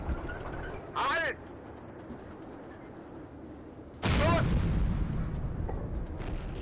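Tank cannon shots from a StuG III C/D assault gun in the Steel Fury game, two heavy booms with a rising whine, the second louder with a rumbling tail, spaced a few seconds apart over a steady engine drone.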